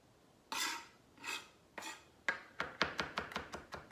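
A knife scrapes chopped garlic across a cutting board in a few slow, rasping strokes, then a faster run of short scrapes and taps, close and clear with no talking.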